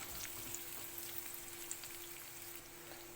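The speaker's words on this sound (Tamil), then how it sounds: "கொஞ்சம் நேரம் வதங்கட்டுங்க." Shallots and garlic sauté in a pan with a soft, continuous crackling sizzle, faint and even throughout.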